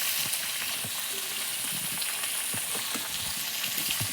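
Jackfruit seeds and potatoes frying in a pan with a steady close hiss and soft occasional pops and stir scrapes throughout.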